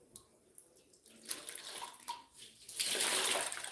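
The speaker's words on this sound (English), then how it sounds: "Get some of that excess water out." Wet wool yarn being squeezed and wrung for dyeing, soft irregular squelches and trickling water that build into a louder, steady splashing stream toward the end, close by with no speech.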